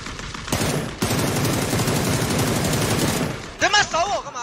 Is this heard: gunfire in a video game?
yes